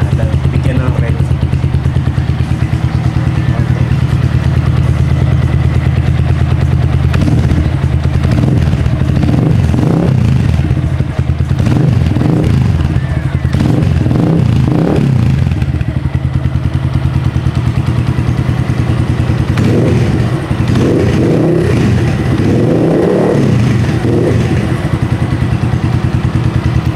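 A Keeway CR152 motorcycle fitted with a BR mini bottle exhaust idles loudly and revs in repeated bursts, the throaty exhaust rising and falling with a steady rumble underneath.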